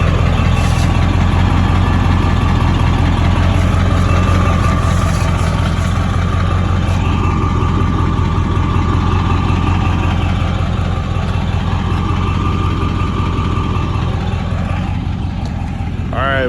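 A 7.3 Powerstroke diesel truck engine with a side exhaust exit idles steadily and loudly close by, a deep rumble throughout with a low throaty exhaust note.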